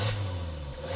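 Suzuki Jimny engine fitted with a K&N air filter, rumbling steadily at close range with a low, continuous tone and slight revving swells over one second, no voices.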